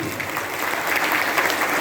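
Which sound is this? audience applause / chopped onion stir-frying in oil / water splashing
audience applause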